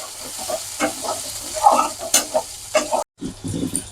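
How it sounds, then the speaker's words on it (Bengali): Chopped onion with five-spice is stirred in a hot pan, crackling sizzle punctuated by repeated scraping strokes of a spatula, close and clear, with a brief pause before stirring resumes. "কুচানো পেঁয়াজটা একটু নাড়াচাড়া করে ভাজে নি"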